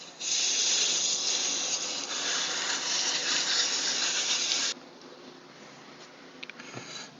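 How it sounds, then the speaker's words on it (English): A steady, loud rush of spraying water from a garden hose cleaning a pool robot's filter runs for several seconds, then cuts off abruptly, leaving a faint hiss and a couple of small clicks. "spray it out with a garden hose,"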